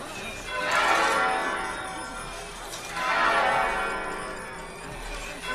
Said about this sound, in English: Let the bells ring!